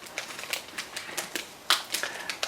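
Plastic wrapping being carefully peeled off an HK Models 1/48 Avro Lancaster B.Mk.1 kit, heard as close, crisp crinkles and clicky rustles in irregular bursts, with one sharper crackle partway through.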